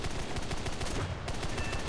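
Rapid bursts of 30mm MK-103 cannon fire from a Ho 229 V3 in the combat flight game War Thunder, a loud continuous rattle of heavy shots over engine drone lasting the whole stretch.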